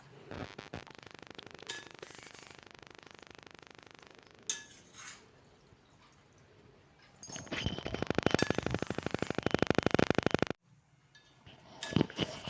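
A ladle scrapes and clanks against a pan as pathrode ground-paste mixture is stirred on the stove, with a steady scraping texture that grows louder and more rapid toward the end before dropping off; no talking.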